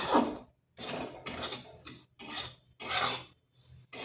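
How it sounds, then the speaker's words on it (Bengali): A spoon scrapes and rasps through flour and semolina as they dry-roast over a low flame in a pan. It comes as rhythmic strokes, each about half a second long, with short pauses between them, loud and close. "এরপর আটা সুজিকে ভালোভাবে ভেজে নিতে হবে যাতে তার কাঁচা গন্ধটা চলে যায়"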